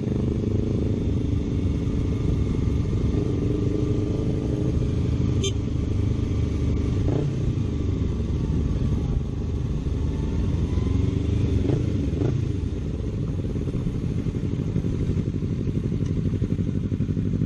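Several motorcycles, among them a Yamaha R1, Honda Hornet, Honda CBR500 and Kawasaki Ninja 300, idle together at a scenic roadside stop, a steady close engine rumble with some clatter throughout.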